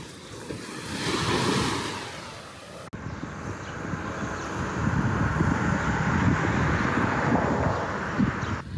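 Surf washes continuously onto the beach at Varosha, the abandoned resort area of Famagusta, Cyprus, with steady broadband roar and some wind buffeting the microphone, a short quieter stretch before a louder sustained wash.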